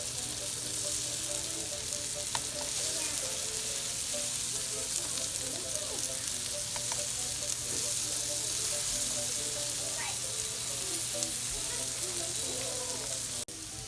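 Slices of acorn squash and yellow long neck squash sizzle steadily in a hot frying pan, a constant crackle with scattered pops and occasional scraping or clinks as the pieces are turned. A voice speaks faintly now and then.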